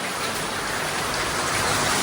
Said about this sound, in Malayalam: അല്ല പിന്നെ നമ്മക്കിണ്ട് മഴ, എന്ത് മഴ?